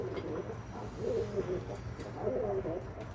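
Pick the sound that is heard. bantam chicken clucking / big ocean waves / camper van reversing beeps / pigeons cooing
pigeons cooing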